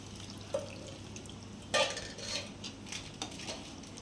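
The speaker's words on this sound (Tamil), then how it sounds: "இப்போ வந்து நம்ம புளி தண்ணியை சேர்த்துக்கலாம் ஏற்கனவே வடிகட்டி தான் வச்சுருந்தேன் இருந்தாலும் திருப்பி ஒரு தடவை வடிகட்டிக்கிறேன்" Tamarind water for a dried-fish curry being strained and poured into a pan, with soft splashing, trickling and drips and a few light metallic clinks of utensils, close by and fairly quiet.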